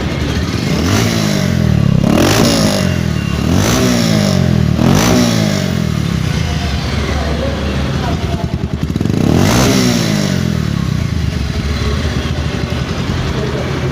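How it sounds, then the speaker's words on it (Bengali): A used motorcycle engine running in neutral, loud and close, revved several times in rising and falling sweeps before settling to a steady idle. "বাইক কিন্তু রানিং অবস্থায় আছে"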